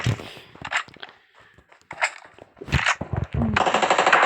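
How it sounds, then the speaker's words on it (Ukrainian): Rapid bursts of PUBG Mobile gunfire crack out in several short volleys, building to a sustained stream of automatic fire at the end. "Уже щось стріляє. Ззаді."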